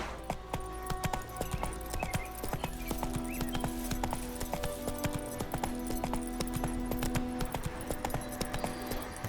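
Horse hooves clip-clopping in The Witcher 3 on PS5, a steady rapid rhythm of close hoof beats with harness jingle, a brief neigh and faint ambient background, no talk.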